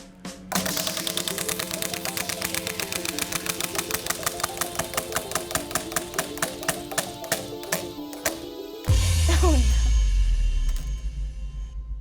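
A prize wheel spins with rapid, evenly spaced clicks that fade and slow over several seconds before stopping, followed by a louder burst of different sound at the end, close and with no talk.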